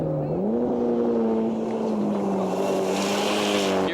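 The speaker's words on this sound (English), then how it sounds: "He's got his foot buried through the firewall. There goes fourth gear." Rally car at full throttle on a stage of Rally Charlevoix, its engine note climbing and then holding steady through an upshift into fourth at about 150-160 km/h. The drone is loud and continuous, with wind noise and no talking.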